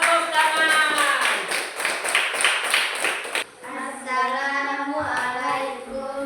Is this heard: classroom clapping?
yes